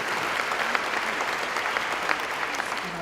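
An audience claps steadily for the Deputy Premier at an anniversary gala, a dense, even wash of many hands that holds at the same level from start to finish, with no voices over it.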